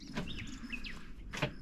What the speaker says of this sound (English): Hear those beautiful birds singing.